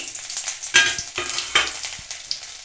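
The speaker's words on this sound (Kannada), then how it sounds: "ಎಣ್ಣೆನೇ ಇವಾಗ ಕಾದಿದೆ ಇದಕ್ಕೆ ಸ್ವಲ್ಪ ಕಟ್ ಮಾಡಿದರೆ ಶುಂಠಿ ಬೆಳ್ಳುಳ್ಳಿ ಹಾಕಿ ಹಾಕಿ ಸ್ವಲ್ಪ ಫ್ರೈ ಆಗಿದ್ದು" Chopped ginger and garlic fry in hot oil for veg Manchurian, a steady close sizzle broken by a few sharp stirring scrapes and crackles, with no talking.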